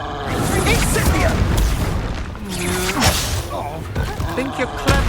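Incendio fire spell cast in a Hogwarts video game, heard as heavy booming bursts and thuds amid busy combat effects, with a strong blast about midway and voices in the mix.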